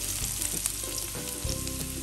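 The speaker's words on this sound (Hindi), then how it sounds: "ये मैं इसको सौते कर रही हूँ।" Steady oil sizzle with crackling pops as garlic and ginger fry in a hot pan, close and continuous with no voices.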